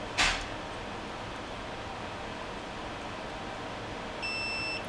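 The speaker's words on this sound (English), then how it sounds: "There you go, you got the beep." A multimeter continuity-test beep: a steady high-pitched electronic tone sounds near the end, clear over a low hiss, preceded by a brief click at the start.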